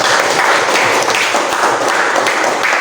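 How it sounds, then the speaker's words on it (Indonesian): A vocational high school class breaks into loud, dense applause, a continuous wash of many hands clapping at once with no talk over it. "Tepuk tangan untuk kita semua."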